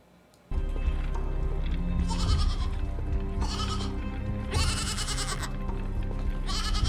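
Goat bleating in a string of loud, wavering cries, repeating every second or so over a steady musical backdrop.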